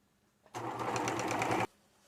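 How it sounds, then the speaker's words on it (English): A sewing machine runs in one steady burst of about a second, stitching a fabric patch onto a pair of jeans, its rapid needle rattle loud and close with quiet before and after. "Now I'm going to sew right down over the patch."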